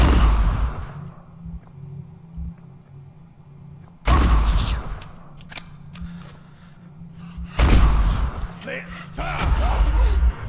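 Shotgun fire in the video game Condemned: Criminal Origins, three loud, booming blasts spaced about four seconds apart, each decaying into a reverberant tail, with someone talking quietly between them.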